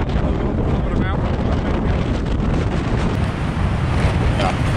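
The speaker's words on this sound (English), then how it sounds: "Lots of wind. Hard wind." Hard, strong wind buffets a high mountain campsite in the Ouachita Mountains, a steady loud roar that rushes and blusters across the microphone without a break and with no voices.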